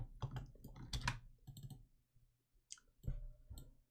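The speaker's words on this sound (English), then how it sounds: "I punched into my keyboard Control-N, which is the key command for join and disjoin faces" Computer keyboard keys pressed while working in Pepakura papercraft software, giving a run of close, sharp clicks in uneven bursts with short pauses between them, and no voice.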